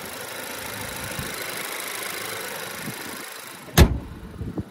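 A 2024 Honda Accord's 192-horsepower 1.5-liter turbo four idles under the open hood, a steady low hum running throughout, with a sharp loud knock near the end followed by a few small bumps.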